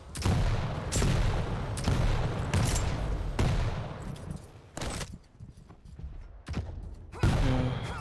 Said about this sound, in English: shots being fired, but nothing connects